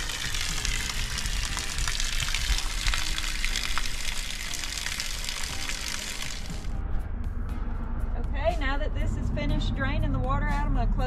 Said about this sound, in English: Draining the water out